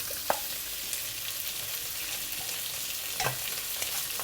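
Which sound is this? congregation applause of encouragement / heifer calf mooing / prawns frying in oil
prawns frying in oil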